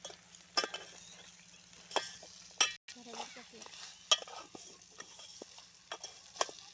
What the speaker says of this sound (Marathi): तेलामध्ये पूर्ण आपला जे मसाला लावलेला मटण हे आता आपण पूर्ण टाकून हे बघा त्याला चांगला हलवून घ्यायचे